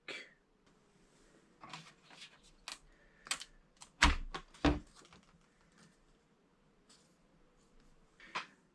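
A handful of separate key presses tapped on an Atari 800XL home computer keyboard with a stuck key, quiet and close, in an otherwise still room.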